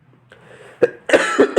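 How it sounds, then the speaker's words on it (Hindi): A person coughs several times in quick succession, harsh bursts following a soft throat noise, close and fairly loud. "थोड़ी तबीयत खराब की वजह से खांसी हो गई।"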